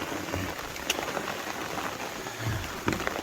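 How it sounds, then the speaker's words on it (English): Rain patters on an umbrella on the Appalachian Trail in the Shenandoahs, a fairly close, steady drumming with a few sharper drop hits. "The rain started to come. I put my umbrella up."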